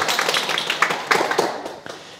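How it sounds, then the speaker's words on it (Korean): Audience applause at a Sunday lecture, a brief burst of dense hand clapping that is fairly close and tapers off toward the end. "큰 박수 한번 부탁드립니다"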